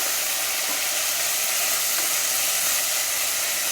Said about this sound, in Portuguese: É o charque que está fritando na gordura.